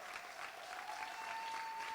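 A gala audience applauds donors at a fundraising event, with steady, fairly soft clapping that holds evenly for the whole stretch and has no talk over it.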